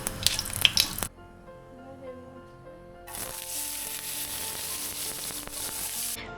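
Nigella seeds (black cumin) dropped into hot oil for a savoury pitha filling, a brief sharp crackle, then a quiet pause and a broad steady sizzle that holds to the end.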